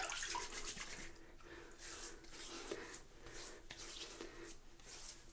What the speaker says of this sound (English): So let's put some water on the face.